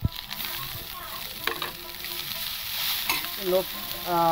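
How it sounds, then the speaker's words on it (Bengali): Eggs, vegetables and boiled Maggi noodles fry in a wok, a close, steady sizzle broken by repeated scraping and clinking of a spatula against the metal. "দেখো বন্ধুরা, আমার পুরোপুরি ভাজাটা হয়ে গেল। ডিম ভাজা, সবজি ভাজা।"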